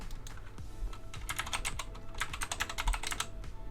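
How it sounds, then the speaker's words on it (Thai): Steady, brisk typing on a KB761 Maiden computer keyboard, with a quick run of clicky keystrokes that grows denser midway and carries on to the end, close and clear with no talking. "เราจะพิมพ์คาว่าสวัสดีครับ"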